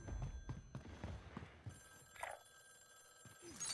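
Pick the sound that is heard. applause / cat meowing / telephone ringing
telephone ringing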